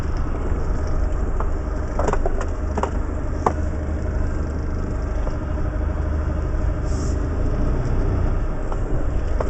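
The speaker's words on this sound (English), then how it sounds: "reverse back that way until I clear the gate and then drive out" A delivery lorry's engine runs steadily and close by as it reverses, then pulls away, a continuous low idling rumble with a few faint clicks and knocks on top.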